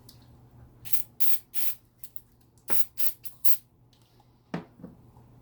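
Lube sprays onto a racing go-kart's front wheel hub in a series of short hissing bursts, about eight of them in irregular quick pairs and singles, close and clear against a quiet background.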